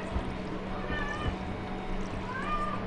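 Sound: cat meowing loudly in a video game

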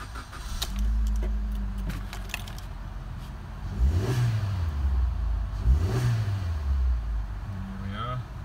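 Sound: Suzuki SX4 engine starting on push button and revving

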